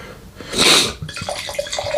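Red blend wine pours into a glass in a short, bright splashing gush of about half a second, followed by quieter trickling.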